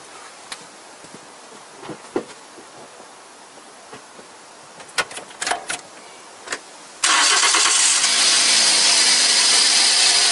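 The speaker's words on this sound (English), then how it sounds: "Okay, and I start the engine, and we check that how our glue sealant has been worked." A car engine cranks and catches, settling into a loud steady idle after several seconds of quieter clanks and knocks, after the timing chain and glue sealant work.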